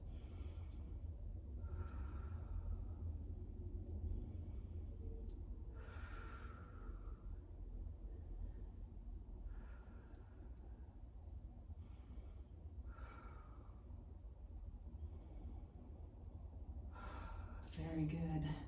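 Slow, deep breaths during a stretching session, roughly five soft inhale-exhale cycles, faint and close over a low steady hum with no talking.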